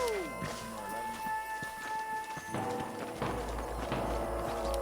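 Horses trotting in the Red Dead Redemption game: steady clip-clop hoofbeats on dirt, close, with a rider's voice and background game sounds.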